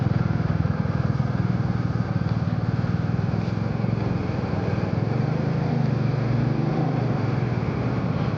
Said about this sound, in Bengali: তখন এই যে বাইকের সাউন্ড প্লাস ইঞ্জিন সাউন্ড অনেক স্মুথ।